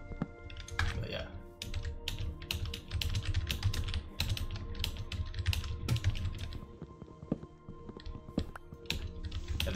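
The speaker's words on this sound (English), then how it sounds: "I'm using the Razer keyboard, like the full size one." Steady rapid clatter of keys on a full-size Razer computer keyboard, close and continuous with dense irregular keystrokes, under a low background hum and occasional faint talk.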